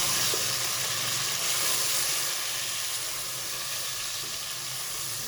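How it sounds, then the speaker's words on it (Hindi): Chicken pieces fry in a pot until light golden for a wedding-style degi chicken pulao, giving a continuous loud sizzle and steamy hiss that eases slightly toward the end. "हम देखते हैं हमारी चिकन गोल्डन फ्राई हो चुकी है।"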